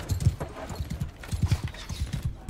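A horse galloping in the Mount & Blade 2 game, hooves pounding in quick uneven clusters at moderate distance, fairly quiet, with no talk over it.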